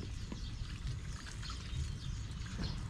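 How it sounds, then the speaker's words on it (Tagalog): Water is poured out onto backyard garden soil along the edge of a bed, a quiet, steady splashing wash that runs unbroken from start to finish. "Bala yung tubig natin mga katunying, ipakakawalan lang natin dito sa gilid"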